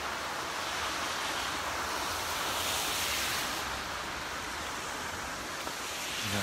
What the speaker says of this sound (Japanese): この川の音。